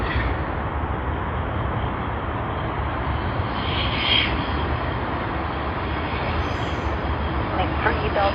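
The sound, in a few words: Cathay Pacific Boeing 777-300ER jet aircraft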